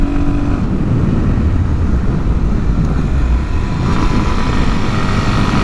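Suzuki DRZ400SM supermoto with an air box mod being ridden, a steady rumbling engine drone under heavy buffeting wind noise, continuous and close.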